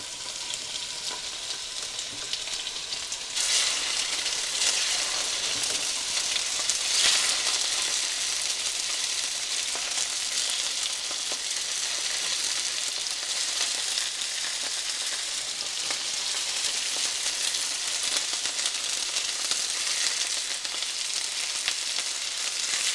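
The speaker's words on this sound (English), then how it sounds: "I want to get a good sear on all this pork." Pork sears for carnitas in two pans, giving a loud, steady, crackling sizzle that fills the whole span with bright hissing fry noise and occasional stirring scrapes, with no talk.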